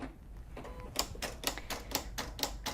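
A Silhouette Cameo 3 cutting machine runs a test cut on Magic Flock rhinestone template material, giving a quiet, regular series of sharp ticking and clacking pulses about every quarter second at close range, with no talking.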